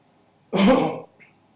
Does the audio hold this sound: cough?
yes